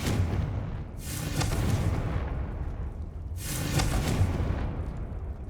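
Confringo blasting spell in Hogwarts Legacy gameplay: two heavy booming explosions about two seconds apart, each a sharp burst trailing into a rumble, over a constant low game background with no talk.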